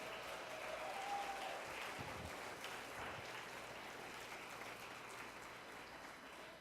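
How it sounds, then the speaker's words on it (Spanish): Faint, distant applause from a church congregation praising God during a sermon: a soft, continuous wash of clapping that holds steady for several seconds. "Vamos, denle un aplauso al Señor por eso."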